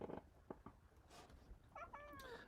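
A house cat meows indoors during a live broadcast, with several short faint vocal sounds followed by a clear, drawn-out meow near the end, all quiet and close with no speech.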